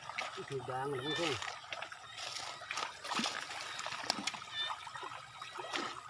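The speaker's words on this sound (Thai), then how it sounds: "น้ำหลากครับ มันเป็น ทางน้ำไหลไป" Flood water flows along a waterway in the rising-water season, a steady rushing wash with scattered splashes and trickles, and a voice is briefly audible near the start.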